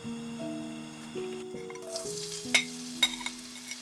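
Shrimp dish being stir-fried in hot cooking oil, a steady close sizzle running throughout with a few sharp clinks of a utensil against the pan near the end.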